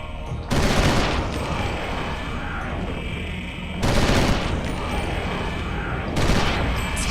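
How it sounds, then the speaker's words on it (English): Assault rifle in the video game Eternal Darkness firing on full auto, three loud sustained bursts of rapid gunfire with short pauses between, close and dominant throughout. "Now we'll use the assault rifle and change to, I think this is auto fire."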